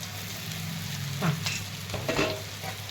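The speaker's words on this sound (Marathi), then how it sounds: "तर आता मी भेंडी टाकून घेतलेली आहे, छान अशी आता परतून घेते" Okra sizzles quietly in a pan as it is stirred and sautéed, with a soft steady frying hiss and a few louder scraping stirs.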